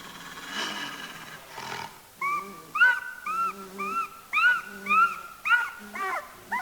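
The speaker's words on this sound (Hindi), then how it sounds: "ये कुत्ता कहाँ रो रहा है" A dog howls in a string of rising and falling wails, about nine drawn-out calls in a row, loud and close, with some rougher growl-like noise at the start.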